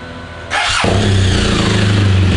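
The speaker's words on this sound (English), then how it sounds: "Bike started." A Royal Enfield-style standard Scope motorcycle starts up close by with a short cranking burst, then catches and settles into a steady, loud, thumping idle.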